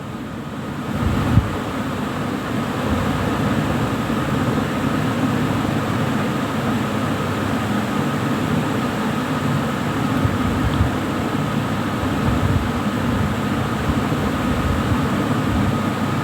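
Chicken pieces fry in a pan with a steady, dense sizzle and crackle that runs unbroken and fairly loud throughout, with no talking.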